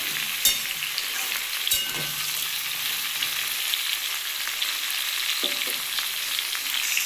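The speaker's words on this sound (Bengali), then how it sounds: "তো ঝিঙেটা বন্ধুরা একটু ভালো করে ভেজে নেবো" Ridge gourd pieces, partly unpeeled and with potato, frying in a pan give a steady, close sizzle lasting throughout, with a few sharp clicks from stirring.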